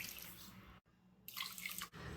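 Water splashes and trickles in a short pour into sugar, a faint watery hiss broken by a brief pause before pouring again.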